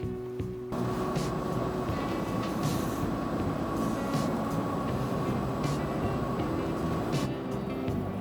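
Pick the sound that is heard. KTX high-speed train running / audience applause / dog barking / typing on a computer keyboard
KTX high-speed train running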